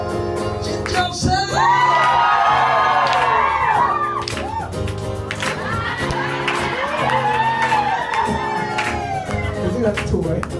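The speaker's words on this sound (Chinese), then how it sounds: "尖叫声！" Concert crowd at a live show screaming, whooping and cheering in shifting waves, loud and close around a phone recording, with music carrying underneath.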